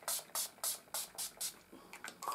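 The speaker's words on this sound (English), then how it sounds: "I'm just going to spray myself with the Urban Decay All Nighter Makeup Setting Spray" Urban Decay All Nighter makeup setting spray hisses out in a quick run of about six crisp, close pumps, followed by a few softer bursts.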